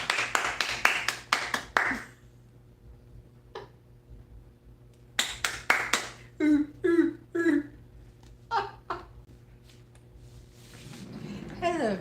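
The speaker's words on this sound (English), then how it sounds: "Let's give a round of applause." A few scattered hand claps from a morning talk audience rise in a short burst at the start, then a presenter's voice takes over with only sparse clapping between phrases.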